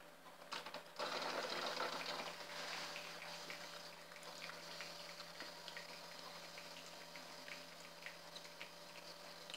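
A Tassimo Fidelia coffee machine dispenses hot water with a steady, close hiss and gurgle. A louder burst comes near the start, then a continuous whirring flow with light ticking. No one speaks.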